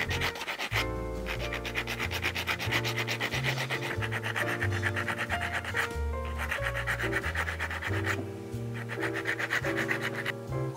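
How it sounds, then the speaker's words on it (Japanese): Hand file rasping a steel toe plate flush with the half sole of a handmade leather derby shoe, steady back-and-forth strokes repeating close and loud over a musical backdrop. "それヤスリで微調整します。"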